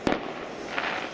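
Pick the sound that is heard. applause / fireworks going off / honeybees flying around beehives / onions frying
fireworks going off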